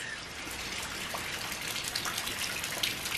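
Irrigation water floods an Arizona yard during rain, giving a steady, hissing rush of running and pattering water that stays even throughout with no voices.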